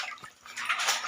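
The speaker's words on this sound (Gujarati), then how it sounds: "હે બહુ ઠંડુ પાણી આવે" Cold water runs and splashes into an overflowing bag, a brief hissing gush that dips, then swells louder near the end, with no voices.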